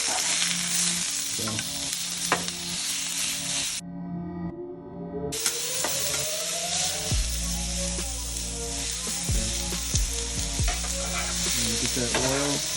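Cheesesteak meat sears in an oiled pan with a loud, steady sizzle and hiss that runs the whole time. Scraping and stirring sounds and a brief tonal sweep come up partway through, and a single word is spoken once.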